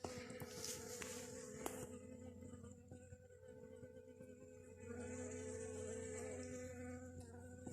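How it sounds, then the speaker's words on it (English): Honeybees and bumblebees buzz around an Appalachian Trail shelter in the woods, giving a faint, wavering drone that swells and fades as insects fly near and away. No voices are heard. "There are a lot of bees at the Derrick Knob shelter, but they're just like little honeybees and bumblebees. Can you hear them all?"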